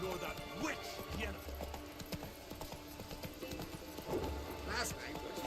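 Roach the horse gallops in The Witcher 3, a steady run of clip-clopping hoofbeats kept at moderate loudness beneath voices and game ambience, with a brief whinny-like rise near the end.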